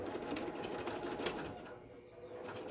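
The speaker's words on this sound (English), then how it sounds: "I'm gonna start at the top of the bag and lock in my stitch." A sewing machine runs steadily as it stitches down from the top of a fabric organizer tote with handles, a continuous close whir with a faint lull near the end.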